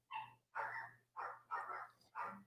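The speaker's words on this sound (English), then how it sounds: "My dog's sitting there barking." A dog barks in five loud, close yelps and bow-wows at a steady rhythm of about one every half second, with no talking over it.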